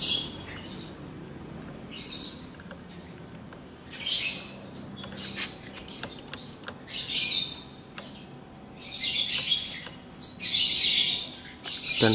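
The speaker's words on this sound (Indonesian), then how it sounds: "Dan burung-burungnya pun mulai bernyanyi di atas." Birds chirp and sing in repeated bright bursts outdoors during a Honda PCX brake repair, with quieter gaps between calls and a soft background hum.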